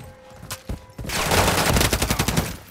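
Rapid automatic gunfire in Call of Duty: Modern Warfare 3 during a Domination match on the Afghan map, a few single shots and then a loud, close, sustained burst of fire.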